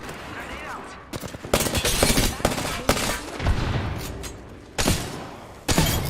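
Video-game gunfire and explosions in bursts and heavy booms, with sharp loud impacts around the middle and end, voices calling out between the shots.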